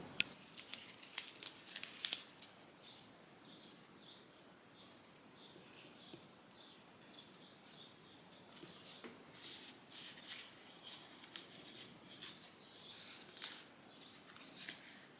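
Rubber foam weather seal is cut and taped for a lint filter fix on a GE UltraFast washer dryer combo, heard as faint, scattered snips, crinkles and tape tearing in a quiet room.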